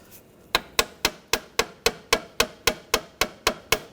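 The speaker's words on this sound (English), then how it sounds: "Just tap it with a hammer." Sharp, close hammer taps on a front inner tie rod of a 2013-2019 Ford Escape repeat in a fast, steady rhythm, about a dozen strikes with no pause between them.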